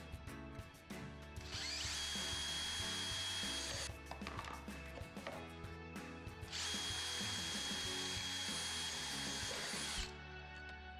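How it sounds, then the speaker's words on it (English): A power drill bores out rivets holding the inside bumper bracket on a Coleman or Fleetwood pop-up camper, in two long, steady whining runs separated by a short pause, loud and close with no talk. "There's 2 more rivets to drill out,"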